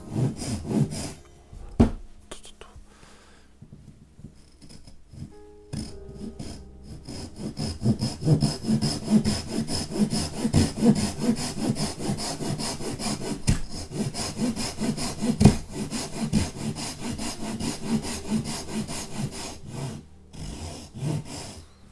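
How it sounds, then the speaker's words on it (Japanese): A Japanese hand saw cuts into a square wooden block for a carving, with rhythmic rasping back-and-forth strokes, close and steady after a few quieter handling sounds at the start. "縦目も1本ノコギリを入れれました"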